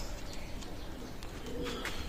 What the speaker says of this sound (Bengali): অনলি 3000 টাকা রানিং পেয়ার গোল্ডেন কবুতর